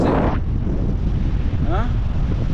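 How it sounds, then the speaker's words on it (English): Strong wind buffets the microphone at an ocean beach, a constant loud roar that drowns out all detail, with a brief voice near the end. "So windy, man."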